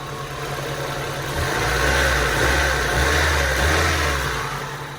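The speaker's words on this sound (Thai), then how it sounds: "เราฟังอัตราเร่งนะครับ" A Honda Civic EK with an automatic VTEC engine, started from cold, revs up in a few steady rising surges over a low idle hum, close and clear with no talking.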